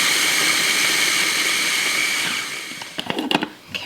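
A food processor grinding oats and breadcrumbs, a loud steady whirring motor for over two seconds that winds down, followed by a few knocks and rattles.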